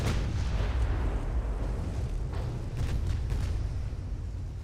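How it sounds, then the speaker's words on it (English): Primary naval guns fire armor-piercing shells in Ultimate Admiral: Dreadnoughts, a dense, continuous rumble of heavy booms and blasts that runs loud through the whole stretch with no voices. "Fire your armor-piercing shells from your primary gun."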